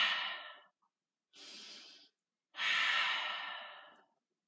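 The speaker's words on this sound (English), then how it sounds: "Nice deep breath here." Deep breaths taken during a hip mobility exercise, three long, close, airy exhalations separated by short pauses, the last the longest and fullest.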